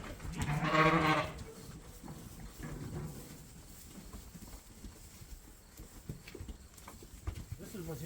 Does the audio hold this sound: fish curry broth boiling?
no